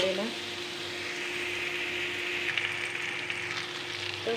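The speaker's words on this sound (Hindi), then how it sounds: "तो फिर 3-4 मिनट आलू को भी हम फ्राई कर लेंगे।" Potatoes frying in a pan for an aloo parval bhujiya, a steady close sizzle and crackle running the whole time beneath a faint low hum.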